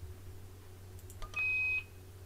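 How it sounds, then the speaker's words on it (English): Tram controls in the TramSim video game give a short series of sharp electronic beeps: a few quick blips, then one long sustained tone and a final beep starting, all over a quiet low hum. "It's beeping at us."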